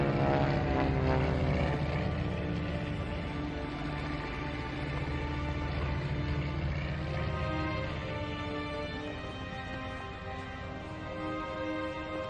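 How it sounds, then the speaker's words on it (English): A propeller-driven plane drones overhead in a desert setting, its engine hum loud and continuous with a rhythmic buzzing, slowly fading slightly as it passes. "a plane flew over us"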